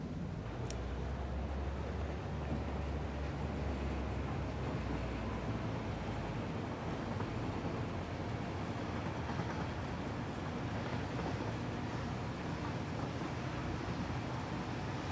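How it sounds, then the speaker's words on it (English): A train in the factory-building game Satisfactory rolls steadily along rails, a continuous dense rumble and rush with no pauses across the whole stretch. "Should we do one round with the train and see?"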